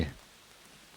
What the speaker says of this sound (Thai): จะได้ยินเสียงฝนด้วยนะฝนตกแรงอยู่พอสมควรนะ